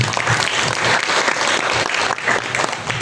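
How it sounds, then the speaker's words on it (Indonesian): Loud, dense applause from a church congregation during a Sunday service, steady clapping filling the whole stretch with no voices on top. "Tepuk tangan buat Tuhan Yesus."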